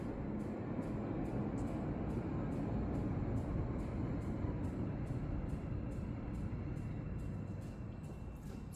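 A steady, heavy rumble of a train rolling past outside a window, continuous and fairly loud, easing off slightly toward the end.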